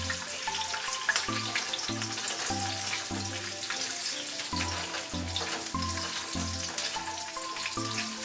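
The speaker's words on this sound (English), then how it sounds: "to cook my onion first. Half an onion." Half an onion fries in a deep pan or wok, giving a steady sizzle and hiss with a soft, repeating low thumping beneath it that continues without any talk.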